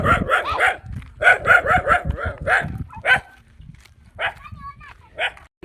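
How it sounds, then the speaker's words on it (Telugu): A black dog barks in a rapid burst of several close, loud woofs, then gives a few scattered barks and a short whine-like yelp after a pause. "ఇంకా నల్ల కుక్క అయితే మమ్మల్ని చూసి మరుగుతూనే ఉంది మేము వెళ్ళే వరకు."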